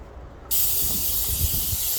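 An airless paint sprayer lays a second coat onto a house exterior, its loud continuous hiss cutting in sharply after a brief quiet moment and holding steady over low background noise.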